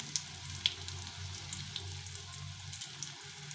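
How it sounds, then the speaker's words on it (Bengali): Fish oil fritters fry in hot oil with a soft, steady sizzle and a few small pops, faint and close, without talking. "তো আমি এইভাবে করে ভেজে নিলাম সবগুলো"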